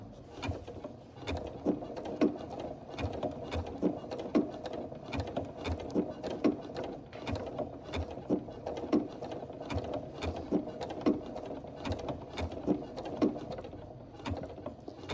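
Sewing machine stitching a Christmas tree quilt made from fabric and templates, its needle running in quick, steady mechanical bursts up close, with short pauses between runs.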